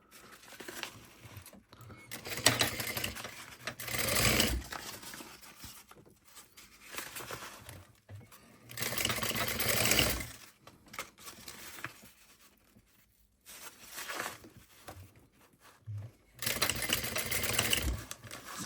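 Sewing machine stitching the lining seams of a small crossbody bag as the bobbin runs low, running in several bursts of a few seconds each with quiet pauses between, close and alone.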